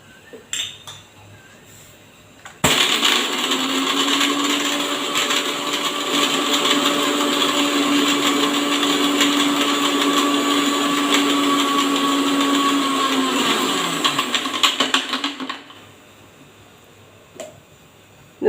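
An electric kitchen blender grinds sugar with cardamom into powder, starting abruptly and running in one loud, continuous whirring burst of about thirteen seconds before cutting off, with faint clinks before and after.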